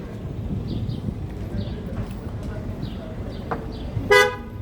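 A car in a narrow street in Siirt rumbles steadily close by, with faint chirps over it. One short, loud horn toot sounds near the end.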